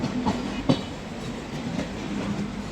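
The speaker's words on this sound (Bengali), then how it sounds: "দশটা ত্রিশ মিনিটে আমাদের ট্রেন এখন যাত্রা শুরু করলো" A passenger train, the Ekota Express running Dhaka to Panchagarh, rolls along the rails with a steady rumbling drone and a couple of faint clacks from the wheels, heard from inside just after departure.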